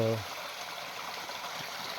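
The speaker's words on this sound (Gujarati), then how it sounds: "અત્યારે માવઠાનો વરસાદ થયો અને ઝરણાઓ નાના નાના નાના ધોધ સ્વરૂપે વહી રહ્યા છે" Small streams spill as tiny waterfalls through the Ratanmahal hills after unseasonal rain, a soft continuous trickling rush, fairly quiet and steady, following a brief low hum at the start.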